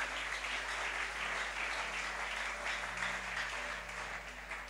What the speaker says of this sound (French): Est-ce que quelqu'un peut-il acclamer une fois de plus le Seigneur?